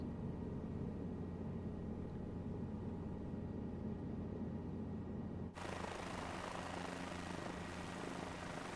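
Helicopter rotor and engine drone from Microsoft Flight Simulator 2024 on PS5, flying over Boston; a steady, loud, continuous whir that brightens and broadens partway through, heard alone without talk.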